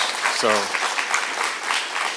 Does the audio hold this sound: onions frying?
no